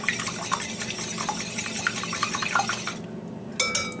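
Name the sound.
whisking eggs with salt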